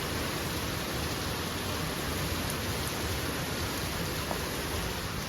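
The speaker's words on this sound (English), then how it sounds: "we're getting a real African downpour" A heavy African evening downpour makes a steady, dense wash of rain noise that fills the space evenly and continuously, with no voices or other sounds over it.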